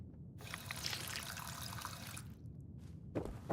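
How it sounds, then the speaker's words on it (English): A video game water fountain trickles in a thin, steady stream, soft and close, with a brief pause before the flow resumes. "It's the slowest water fountain that ever water fountained."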